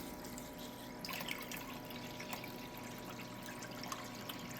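Water runs steadily through a flour gold cleanup sluice, a continuous, fairly quiet wash with faint splashing and trickling.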